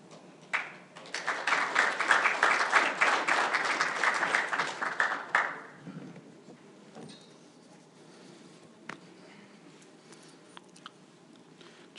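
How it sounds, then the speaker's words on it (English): An audience applauds for a speaker at an event, with about five seconds of loud, dense clapping that stops abruptly. A quiet room follows, with only a few faint knocks and shuffles. "Just waiting for my second round of applause from that room here."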